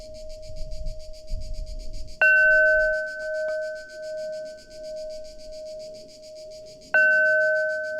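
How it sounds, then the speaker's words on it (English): Two bells are struck a few seconds apart. Each clear metallic tone rings on and slowly fades with a wavering shimmer, alone against a quiet background after a faint low rumble at the start. "Let's do the bells."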